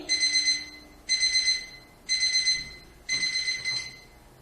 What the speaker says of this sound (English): obviously an alarm has rang